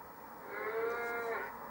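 A single drawn-out cow moo from the Actua Golf 2 golf game on PlayStation, rising and fading over about a second, clear and fairly loud against a quiet background.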